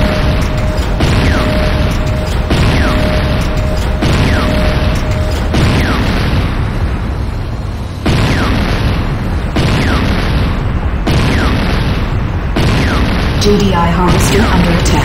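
Repeated heavy booms and bursts of destroyed buildings in the game Renegade C&C, a dense run of loud explosions over constant battle rumble, with a game announcer voice speaking over it.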